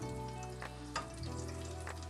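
Steady crackling sizzle of Hong Kong-style sweet and sour chicken frying in a pan, with a few soft scrapes of stirring, quiet and continuous.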